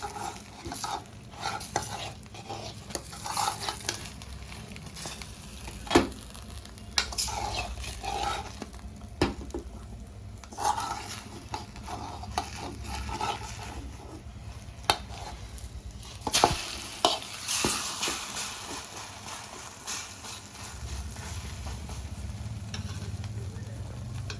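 An omelette sizzles steadily in a pan after being flipped, beside a pot of Nellore-style pappu pulusu. Occasional sharp clinks and scrapes of a utensil stand out over the constant frying hiss.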